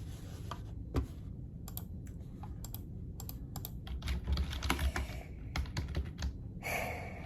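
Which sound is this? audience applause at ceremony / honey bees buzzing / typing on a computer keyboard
typing on a computer keyboard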